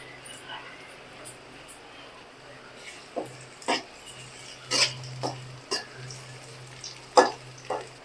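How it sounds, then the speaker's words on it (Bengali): Chopped garlic fries with onion in hot oil for a home-style country chicken curry, giving a soft, steady sizzle broken by sharp clinks of a stirring utensil over a low background hum. "এবার এর ভিতরে দেব রসুন কুচি।"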